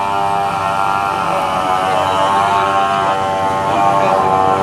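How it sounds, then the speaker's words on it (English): A chainsaw runs steadily amid storm destruction, a loud continuous engine drone with a dense buzzing tone that holds for several seconds without pause. "and that's the sound of the chainsaw."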